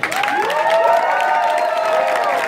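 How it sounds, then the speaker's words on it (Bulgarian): A crowd at a dance party claps and cheers loudly for a group of dancing girls, with steady applause, high whoops and shouts blending into one dense roar. "вашето бурно пляскане и аплодиране за Дамите"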